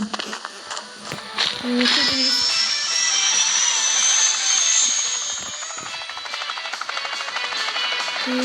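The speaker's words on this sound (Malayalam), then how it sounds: "ഹെലികോപ്റ്ററിൽ നിന്ന് ചാടിയിട്ടേ പാരഷൂട്ട് ഇട്ടെങ്കിലും" A video game helicopter drones steadily with a rising, whining engine pitch that swells and then fades, with some scattered clicks around it.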